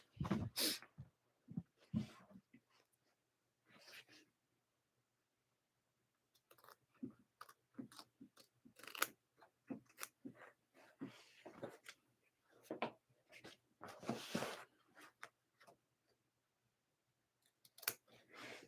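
Scissors snipping an embroidery stem thread while finishing orders, a series of quiet, close, sharp clicks and snips in irregular bursts with pauses of near silence between.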